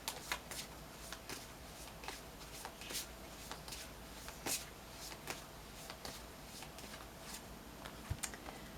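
Tarot affirmation cards shuffled in steady, crisp riffling bursts, quiet and close, with soft flutters repeating several times a second and no talking.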